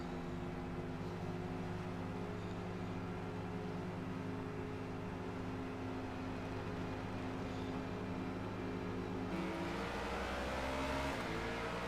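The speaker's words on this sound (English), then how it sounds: "Is that car top speed limited, Chair?" Race car engine in a racing video game holds a steady, loud drone throughout, with a shift in pitch near the end as it accelerates; no talking.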